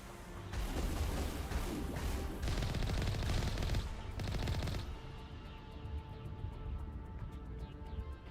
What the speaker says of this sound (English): Where's this thing that's shooting me?